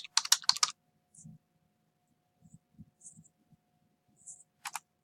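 Typing on a computer keyboard, with a quick run of close clicky keystrokes at the start, then scattered soft clicks and a final short burst of keys.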